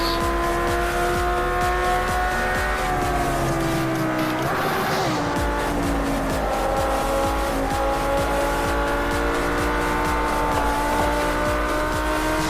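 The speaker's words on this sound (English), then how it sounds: "Okay, we come down this main straightaway. Car is accelerating at a nice steady pace." A Lamborghini Huracán accelerates along a bumpy track straightaway, its engine note rising steadily through the gears with a brief dip around a shift, loud and close throughout, with no talk.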